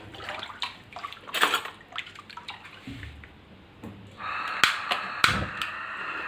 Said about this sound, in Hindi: पानी इस पर मैं और शामिल कर देती हूँ